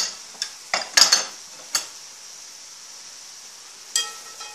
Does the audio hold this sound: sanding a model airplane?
no